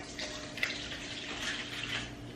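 One cup of water poured while mixing cake batter for cupcakes, a soft, steady splashing trickle with a small clink near the start, faint and with no talk over it.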